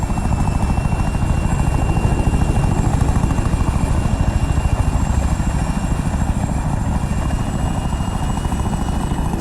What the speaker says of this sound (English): They'll hear the helicopters, but they won't necessarily hear what they are or from where